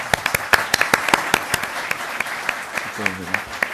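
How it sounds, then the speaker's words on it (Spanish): Seminar audience claps for the presenters at a peacekeeping operations event, a moderate round of scattered applause with distinct sharp claps standing out, and a voice briefly heard near the end. "le damos un gran aplauso a los expositores"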